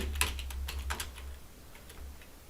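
Keys clatter on a computer keyboard as someone types JavaScript code, about eight quick, irregular clicks at close range over a low steady hum, with no talking.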